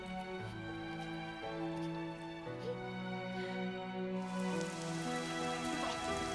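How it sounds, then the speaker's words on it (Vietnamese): Heavy rain pours steadily as a continuous, dense hiss, layered under sustained music in a war drama scene. "Sao mưa to như vậy?"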